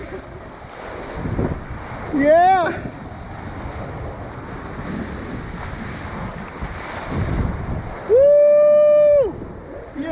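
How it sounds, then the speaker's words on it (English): Big ocean waves and strong wind roar steadily at a kiteboarding beach, loud wind buffeting on the microphone throughout, with whooping voices shouting over the surf. "Let me pass these big waves."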